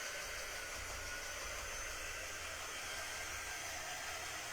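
Hair dryer blowing steadily to dry a chalk paste craft project for a kid's bedroom, a continuous airy broadband whoosh with a low motor hum, close and unbroken throughout.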